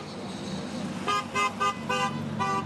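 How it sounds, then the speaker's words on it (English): Car horns honking from vehicles driving past an outdoor independence rally in Sylvan Lake, Alberta: a series of five short toots over steady traffic rumble, fairly close and clear. "we've got people honking their horns as they drive by, giving us support"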